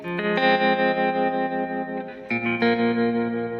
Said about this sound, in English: we got this nice tremolo effect going on the guitar